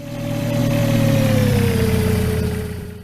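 A fast vehicle races past up close, its loud engine tone sliding steadily lower in pitch as it passes, swelling and then fading over about three seconds with no voices.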